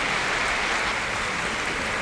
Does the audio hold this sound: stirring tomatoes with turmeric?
no